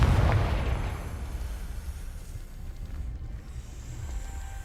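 Confringo spell explosion in the Hogwarts Legacy video game: a single loud, deep blast at the start that decays into a long rumbling tail, with faint ambient game sound after.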